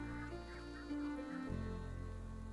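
A bird honking after being fed in the cozy island game Cozy Grove, a couple of short nasal goose-like honks over a steady musical background.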